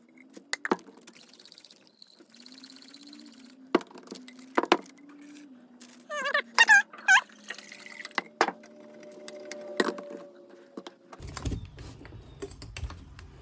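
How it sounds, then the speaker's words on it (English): Paint thinner poured into a paint spray gun for cleaning: a soft liquid trickle and fill with light clinks and taps of the gun, close by and fairly quiet. "we're going to pour some thinner down in there"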